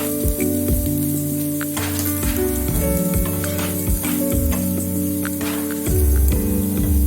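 Garlic sizzles in a hot pan while a paneer roll is being cooked, giving a close, continuous crackle and hiss. A low humming tone runs underneath throughout.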